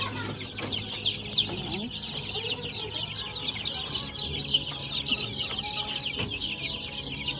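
A new batch of White Kelso and Goldenboy Sweater chicks cheep and chirp continuously, with clucking from older fowl nearby, a busy overlapping chorus at close range.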